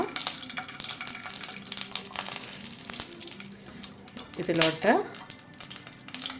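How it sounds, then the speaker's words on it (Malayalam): Ghee sizzles and crackles steadily in a pan while the coconut filling for stuffed bananas is started, and a voice speaks briefly near the end over the frying. "കുറച്ച് നെയ്യ് ഒഴിക്കുക."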